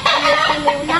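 A chicken clucks close by, a short run of three or four quick, loud clucks.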